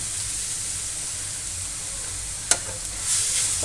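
Carrots for carrot halwa stir-frying in a pan on low heat, a steady close sizzle with one sharp clink of the utensil partway through and a slight rise in hiss toward the end.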